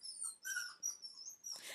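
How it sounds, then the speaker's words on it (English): A pet dog whimpers and whines in a string of short, high-pitched cries with brief pauses between them, fairly faint and heard alone without talk. "If you can hear my dog, I well and truly apologise."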